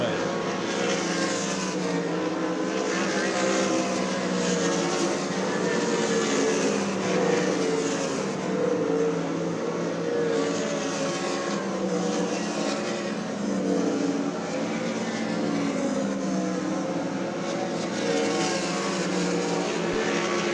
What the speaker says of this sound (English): Fourth hot lap session for the Randall Roofing 360 Sprint Cars is underway.